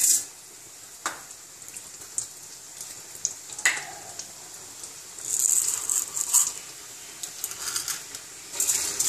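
Oil crackles and pops with intermittent sharp sizzles and sputters, close up, as mustard seeds and lentils fry, without any talking.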